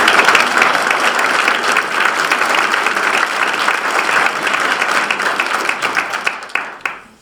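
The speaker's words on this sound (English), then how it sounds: "So please join with me in another warm round of applause to the Kinkead family." Steady, loud round of applause from a ceremony audience honoring a family at a military university change of command, dense clapping sustained throughout before tapering off at the very end.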